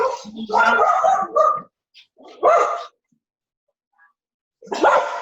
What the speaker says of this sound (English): That's not my dog barking, but they do bark